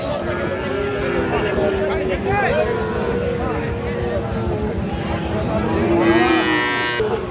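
Friesian and cross-breed bull calves low and moo repeatedly at close range amid a busy barn din, with people talking throughout and another animal calling near the end.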